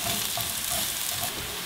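Onions sizzle and crackle steadily in a hot pan, a soft continuous frying hiss with small pops, no voices.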